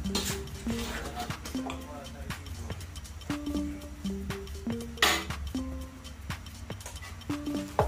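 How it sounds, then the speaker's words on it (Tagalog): Sweetened coconut from three young coconuts cooking with half a kilo of sugar in a pot, stirred with a utensil that scrapes and clinks against the metal in irregular knocks, close by, under steady background noise. "Huwag kang magsawa maghaluin to guys. Kasi yun talaga yung procedure niya. Kailangan haluin."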